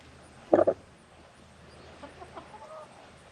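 A chicken gives a brief, close cluck, followed by a few fainter clucks against a quiet barnyard background.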